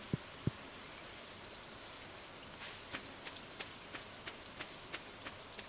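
Soft, steady rain hiss from the Stardew Valley farming game fills the background, with a few faint raindrop ticks scattered through it and two sharper clicks near the start, all quiet and without talk.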